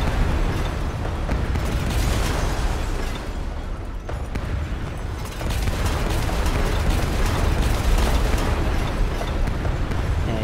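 Continuous rumbling explosions and crashing booms from town buildings being demolished in Transport Fever, a loud dense wall of destruction noise that dips briefly mid-way before swelling again, with no talk.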